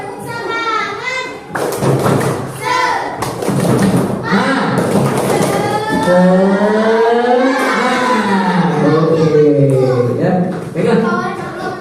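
A classroom of children chants a spirit cheer in unison, with rhythmic claps and thumps punctuating their loud, sing-song voices close by.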